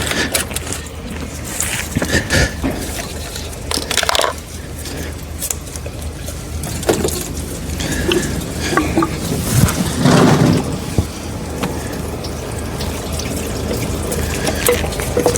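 Coolant drains from the disconnected lower radiator hose of a Chevrolet Cruze during engine removal, a steady splashing pour of liquid with a few louder gushes, close up and with no talk.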